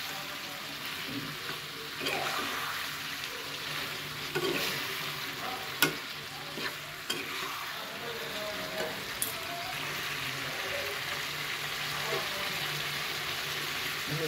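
Cabbage cooks with meat in a pan, giving a low, continuous sizzle with intermittent scraping and clacking of a spatula as it is stirred.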